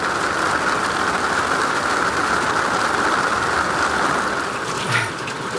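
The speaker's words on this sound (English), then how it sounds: "This is some hailstorm." Hail pelting down steadily during a storm near Boulder, Utah, a dense, even clatter and hiss that holds close and loud throughout with no voices.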